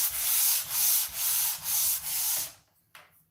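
Hardened Confill filler being sanded by hand, five or six steady back-and-forth strokes of abrasive scraping, loud and close, then a pause and one faint light rub.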